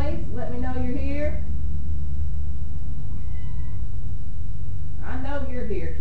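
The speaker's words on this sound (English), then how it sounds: "there's a kitty in here. You're gonna hear him every now and then on the audio." A cat meows twice, once at the start and again near the end, with a quiet stretch of room hum in between.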